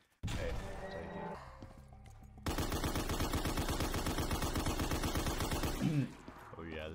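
An MG-81 machine gun fires in Black Ops 3 Zombies on the Stairway to Heaven custom map, a loud rapid continuous burst of rattling shots lasting several seconds after a brief stretch of game noise.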